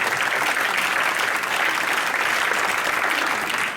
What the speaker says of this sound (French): Vous pouvez vous applaudir vous-même.